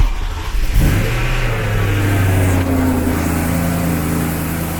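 BMW E92 M3 engine revving then settling to a steady idle with a thin whirring tone from a pulley riding over the low engine drone.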